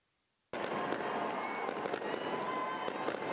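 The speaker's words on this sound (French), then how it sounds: "À Yamoussoukro, feux d'artifice et ambiance de grand jour ont marqué la nuit du 31 décembre." Dense, continuous crackling and popping of New Year's Eve fireworks in Yamoussoukro bursting after a brief silence, loud and sustained with scattered sharper bangs.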